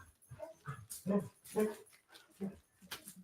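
Dog whimpering with short yips and barks in a quick irregular series, fairly close, with people talking lightly around it.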